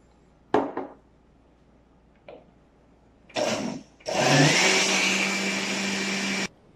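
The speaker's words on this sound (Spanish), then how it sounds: "vamos a integrar 3 cucharadas de maicena y 3 cucharadas de harina y volvemos a licuar" Blender mixing cornstarch and flour into a pie filling, starting with a few short bursts then running in a steady loud whir for about two seconds before stopping.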